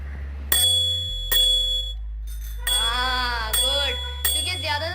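A bicycle bell rings in several separate bright metallic dings, each leaving a ringing tail, with a few short gaps between rings, no talk.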